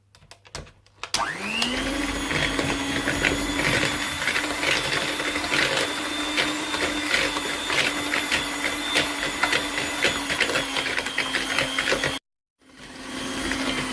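Butter being beaten with brown sugar for a carrot cake batter gives a loud, steady electric mixer whine that starts after a second, runs unbroken with slight rattling, then cuts off briefly before resuming.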